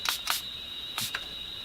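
Four quick bursts of Milani Make It Last setting spray hiss out of a pump bottle in two pairs, close and crisp over a faint steady background tone, with no voices.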